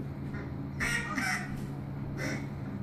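Handmade wooden duck call blown to imitate quacking, a few short raspy quacks in two clusters over steady background hum, fairly close.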